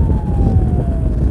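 A police patrol car's siren wails faintly over the loud low rumble of engines and road traffic during a cycling event, its tone holding steady and slowly sliding downward.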